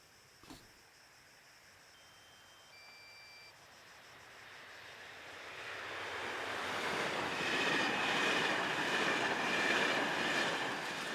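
A DB Cargo Class 189 electric locomotive, designated Class E474 in Italy, approaches and passes with a freight train, a broad rushing roar swelling steadily from quiet to loud and close, with a faint clatter of wagons.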